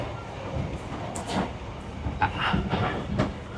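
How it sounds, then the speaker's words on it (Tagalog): A Vietnam Railways passenger train near Da Nang rolls along and slows, its wheels giving faint clicks and knocks over a soft steady rumble heard from inside the carriage. "Medyo bumabagal yung takbo ng tren."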